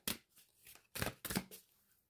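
Soft, quick riffling bursts of tarot cards being shuffled up close, coming in uneven groups with brief pauses and no talking.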